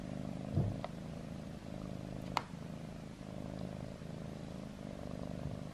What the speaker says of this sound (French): Il y a un petit chat qui a trouvé sa place pour faire une sieste